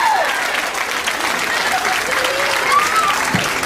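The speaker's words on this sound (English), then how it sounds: "Let's give this young lady a nice round of applause." A crowd claps steadily at a youth swine show, a sustained round of applause with a voice faintly audible over it.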